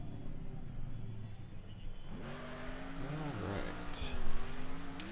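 Cars rev in a demolition derby stadium in Next Car Game, engines rising and falling in pitch as they accelerate, growing louder toward the end, with someone speaking briefly.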